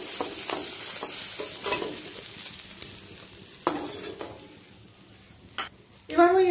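A hilsa fish head fries in hot oil in a pan, with a continuous crackling sizzle and occasional stirring scrapes and clatters, and a sharper burst of frying near the end.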